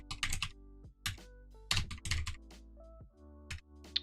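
Quick bursts of typing on a computer keyboard, clustered key clicks separated by short pauses, close and crisp with a few louder thunks of individual keys.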